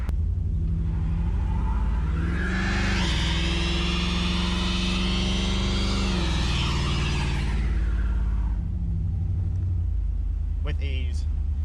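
An LS-swapped Chevrolet S10 pickup makes a hard launch and burnout. A loud, sustained engine roar rises and holds for several seconds at high revs, then drops away to a lower rumble, with a brief higher sound near the end.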